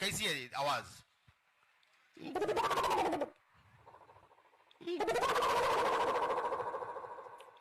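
A performer on stage vocally imitates an owl's call in long, warbling, loud bursts, with a brief spoken question in between.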